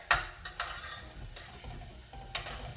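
Garlic added to wilted onions in a hot pan gives a soft sizzle under a few quick spoon scrapes and stirs, close by and short, with no voices.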